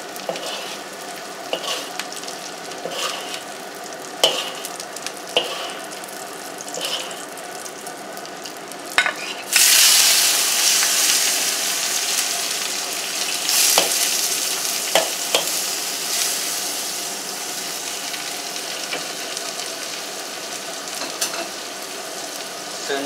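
Prawns fry in a pan with a continuous sizzle that swells louder partway through, punctuated by scattered clinks and scrapes of stirring.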